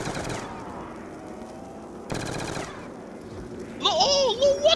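Hip-fire gunfire from Call of Duty Black Ops 2 Zombies, two short bursts of rapid automatic shots separated by quieter gameplay, followed by a louder electronic, warbling game effect at the end.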